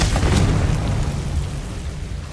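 A Confringo spell blast in Hogwarts Legacy, one loud booming explosion at the start with a heavy low rumble that decays into a fading crackling tail.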